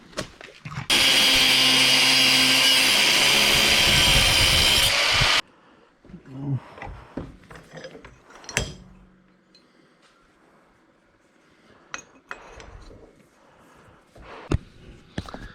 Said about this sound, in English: time to cut some bolts.